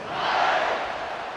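A roaring stadium crowd in the college football video game EA Sports College Football 26 swells briefly, a broad, loud wash of cheering that peaks early and then holds steady.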